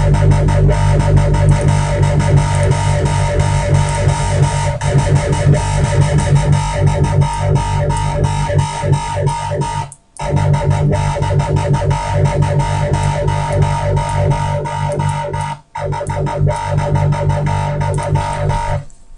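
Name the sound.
synth with flanger effect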